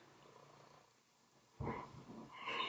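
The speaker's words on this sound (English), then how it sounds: "He's purring very loudly" Mr. Mittens, a pet cat, purring loudly and close by, a low steady rumble that grows stronger partway through and keeps going without a break.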